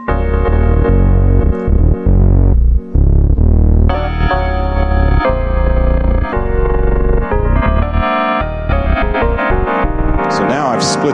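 An 80s-style FM bell synth preset played in Ableton, with a split keyboard setup: bright, chiming bell tones in shifting chords and runs, mixed with lower synth parts, played steadily and loud throughout.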